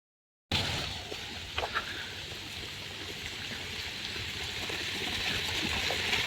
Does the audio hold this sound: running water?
yes